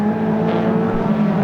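Toyota MR2 race cars racing at Rockingham, a steady loud engine drone with a sustained low-mid hum, engines held at high revs throughout.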